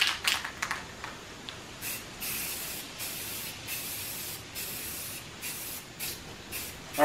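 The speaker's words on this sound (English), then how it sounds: "And now I'm going to give them a coat of primer." Aerosol primer sprayed onto belt grinder table and back rest parts, in a run of short hissing bursts of varying length with brief pauses between them, close and fairly quiet.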